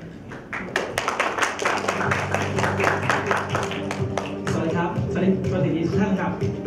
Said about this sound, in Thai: ขอเสียงปรบมือต้อนรับคุณจตุพรสุขอุดมค่ะ